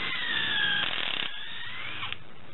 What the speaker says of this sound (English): And it takes a while to drill them out.